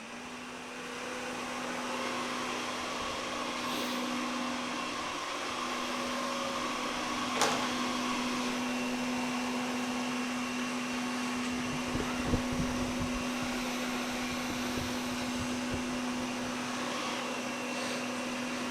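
Samsung Powerbot R7040 robot vacuum running with a steady, even motor whir and a constant hum throughout, with a few faint clicks and bumps.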